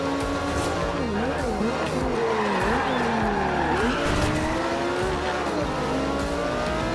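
A car slides in the racing game Forza Horizon 2, its tires squealing and skidding over a loud, constantly revving engine that wavers in pitch throughout.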